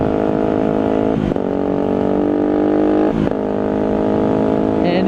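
Motorcycle exhaust droning steadily and loudly up close on a wet road, with brief throttle dips and surges partway through and no talk over it.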